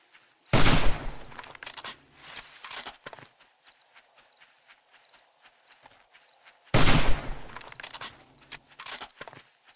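Gunfire in the video game 7 Days To Die: two loud bursts of dense, sharp shots several seconds apart, with scattered lighter pops and clicks between them.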